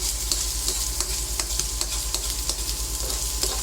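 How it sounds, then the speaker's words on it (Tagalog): Onion and garlic sauté in a pan, a loud close sizzle broken by regular scraping strokes of a spatula. "Ayan, gisa lang po natin ng maigi."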